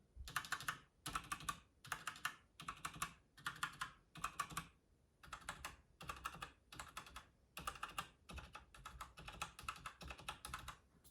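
Rapid clacky keystrokes on a mechanical keyboard fitted with HyperX Pudding keycaps, in quick bursts with short pauses, close and fairly quiet, no voices.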